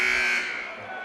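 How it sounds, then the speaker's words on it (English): A basketball buzzer at a boys high school home game, Dover-Sherborn against Ashland, gives one loud, sustained electronic buzz lasting about a second and easing slightly toward the end. "Buzzer sounds, maybe for the last time this season at home"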